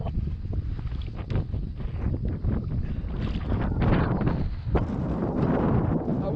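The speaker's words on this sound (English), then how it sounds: "I was actually pretty close to shore because I'm trying to stay away from this wind." Strong wind on a lake buffets the microphone while someone fishes for bass from a boat, a steady rough roar with gusts and water slapping against the hull. It carries on without a break for the whole stretch.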